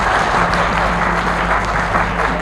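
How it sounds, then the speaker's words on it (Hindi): Loud, dense applause from a crowd at a Hindi-language public gathering or rally, steady and sustained throughout with a faint murmur of voices mixed in. "जोरदार तालियां इन सब के लिए।"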